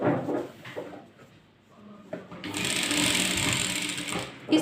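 Sewing machine stitching a Patiala salwar, its rapid whirring run building up after a quiet start with faint handling sounds, continuing steadily to the end.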